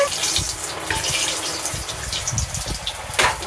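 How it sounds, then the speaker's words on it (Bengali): Water is poured into a paste of ground green chilli, ginger and cumin for a Bengali banana-flower and prawn ghonto, a steady close gush and trickle running through the whole moment with a brief louder splash near the end. "কাঁচা লঙ্কা বাটা একটু আদা বাটা আর একটু জিরে বাটা এটাকে একসঙ্গে আমি একটু জল দিয়ে"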